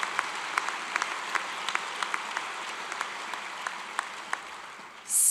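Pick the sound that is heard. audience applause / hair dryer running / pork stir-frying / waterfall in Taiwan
audience applause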